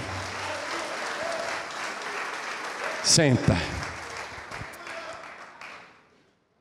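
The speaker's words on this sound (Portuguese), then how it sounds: "vamos aplaudir ao nome do Senhor." A church congregation applauds during a sermon, a sustained wash of clapping that swells briefly under a voice in the middle, then fades out toward the end.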